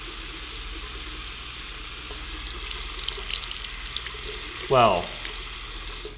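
Tap water runs steadily at low volume while a Feather AS-D2 safety razor is rinsed; near the end someone briefly speaks a single word over the flow.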